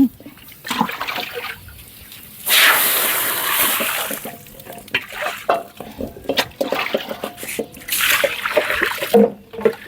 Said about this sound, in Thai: เอามะขามไปล้าง